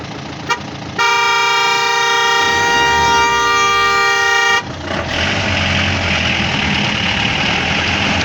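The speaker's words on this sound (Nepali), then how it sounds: "एक चरण हर्न पनि हान्नुपर्छ होला।" A loud, steady horn blast rings out for about three and a half seconds, clear and close, then cuts off into rumbling engine and road noise.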